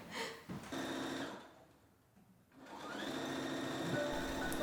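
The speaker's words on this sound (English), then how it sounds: "sewing now." A sewing machine stitching clothes runs in a steady whirring buzz, pauses for about a second, then starts up again and keeps running, fairly quiet and with no voices.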